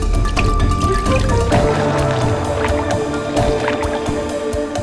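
A basilisk, the Jesus lizard, races across water with rapid slapping footfalls and splashes, sharp drip-like patters over a steady watery wash, close and loud throughout.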